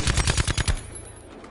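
Loud, close burst of automatic gunfire in a multiplayer shooter video game: about eight rapid shots in under a second, then a fading echoing tail.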